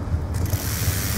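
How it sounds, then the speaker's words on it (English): A Death Machine minigun whirs up in Call of Duty Black Ops 2 multiplayer, a loud, dense mechanical rattle and whine that fills the whole short moment without pause. "Friendly death machine spinning up."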